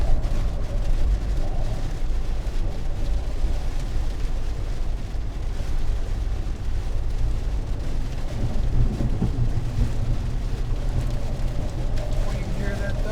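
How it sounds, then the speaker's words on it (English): Thunder from a storm in the southern United States rumbles low and continuously through wind and rain-like noise, with faint voices talking underneath. "We can hear that thunder."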